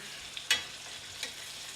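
Beef tenderloin steaks sizzle in a pan with a steady, fairly quiet hiss, broken by two brief clatters as the steaks are turned over.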